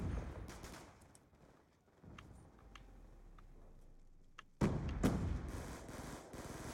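Gunfire in the video game Black Ops 2, quick bursts of hip-fired shots crackling in the mix, quiet at first, then louder dense firing near the end.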